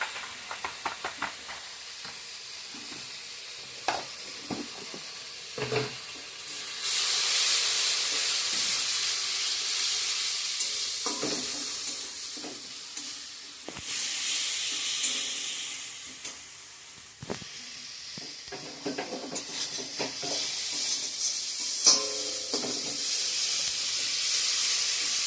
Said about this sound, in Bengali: মশলাটা আমার ভালো করে কষানো হয়ে গিয়েছে